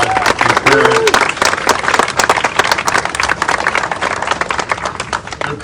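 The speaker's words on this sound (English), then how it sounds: "Let's give her a round of applause." Audience applause for a senator, a broad wash of dense clapping over several seconds with brief speech near the start.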